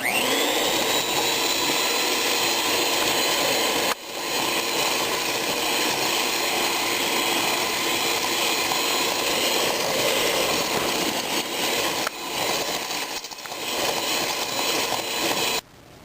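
An electric mixer creams butter and granulated sugar for red velvet cupcakes, a steady loud whirring drone that runs almost unbroken, dipping briefly twice.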